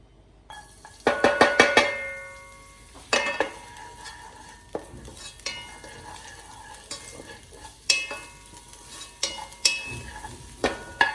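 Ginger, onion and garlic sauté in a pan, with a soft, constant sizzle under loud, close scrapes and clatters of a utensil stirring against the pan in irregular bursts.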